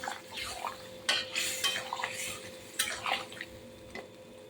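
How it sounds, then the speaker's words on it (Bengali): A spoon stirs katla fish and taro curry in a pan, giving repeated scraping and clinking strokes close up with a wet, bubbling undertone. "তরকারি দিয়ে দিয়েছি, এবার নেড়ে চেড়ে"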